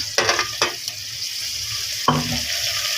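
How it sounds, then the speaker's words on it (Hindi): Kaleji (goat liver) masala with peas being fried in a pan, a steady sizzle broken by a few sharp scrapes and stirs of a spoon against the pan, close and clear with no talking. "10 से 20 मिनट तक इसकी भुनाई करूँगी"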